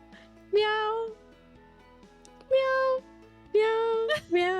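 A song built from cat meows: clear, tonal meow phrases repeat in short bursts over a quiet musical backing.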